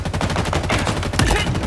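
Rapid automatic gunfire in the shooter video game Halo Infinite, a loud close burst of repeated shots with a heavier blast near the end, no talk.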